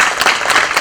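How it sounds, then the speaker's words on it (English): Brief audience applause at a panel discussion on entrepreneurship, a quick dense patter of clapping lasting under a second. "So I think a big round of applause only to them."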